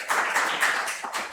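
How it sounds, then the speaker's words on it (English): A conference audience claps briefly at a talk, a short, thin patter of hands that rises, peaks, and fades within moments, with no one speaking. "please give a round of applause to NarraScope"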